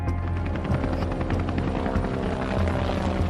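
Helicopters thunder overhead with a loud, continuous rotor drone and throbbing engine roar, steady throughout and heard alone as a dramatic sound effect.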